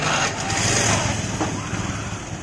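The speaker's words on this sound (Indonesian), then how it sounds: "Nyalakan dulu motornya." A carbureted Honda Vario scooter engine idles steadily nearby with a dense, continuous mechanical drone that holds an even level throughout and has no noticeable revving.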